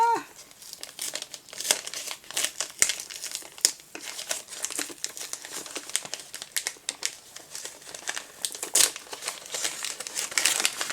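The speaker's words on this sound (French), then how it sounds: "Et le tout est emballé dans le superbe papier craft." A square box wrapped in kraft paper being unwrapped, giving close, continuous paper crinkling and crumpling with occasional tearing rips over about eleven seconds.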